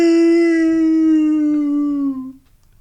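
A person vocally imitates a whale call with one long, loud, sustained tonal moan that slides slightly downward over about two seconds before trailing off, heard up close with no other sounds.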